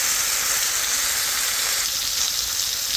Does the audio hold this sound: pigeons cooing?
no